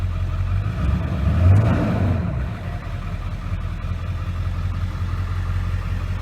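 A 2001 Ford F250 Super Duty pickup engine with cold air intake and aftermarket exhaust idles steadily with a deep, rumbling exhaust tone, swelling briefly as if lightly revved before settling back to a low idle.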